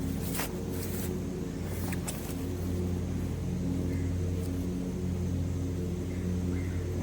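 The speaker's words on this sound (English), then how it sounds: "as you can hear, there's still mowers out there" Steady low motor drone from lawn mowers running in the distance at a park in Bloomington, Indiana, continuous throughout with no voices.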